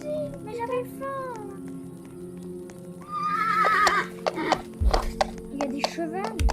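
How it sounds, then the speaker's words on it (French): Horses whinny repeatedly in a video game forest, with a long shrill neigh midway and clip-clopping hooves and thuds toward the end, mixed with game music and other effects. "Il y a des chevaux."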